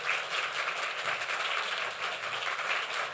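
Dense, sustained applause from a large audience at a memorial tribute during an IAF 2015 Spring Meetings conference, an even wash of clapping with no voices over it.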